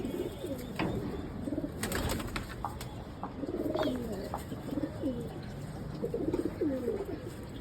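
Pigeons coo repeatedly in a loft during a cold, rainy season, with soft rolling calls recurring throughout, some wing flutters and chirps around them, and a faint voice now and then.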